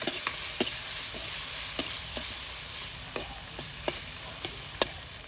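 Red chilies sizzle while being stir-fried in a pan, a continuous close hiss punctuated by about a dozen sharp spatula clacks against the metal at an irregular pace.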